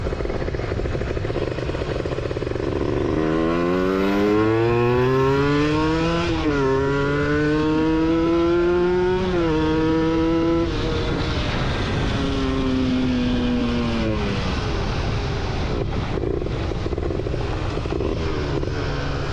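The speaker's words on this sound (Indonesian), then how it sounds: "motornya tuh kecil tapi dua tak, ada sensasi ngok-ngok gitu" A small two-stroke Suzuki Satria FU motorcycle engine revs loudly and close, pitch climbing and dropping through several rising sweeps, then settling into a rough drone.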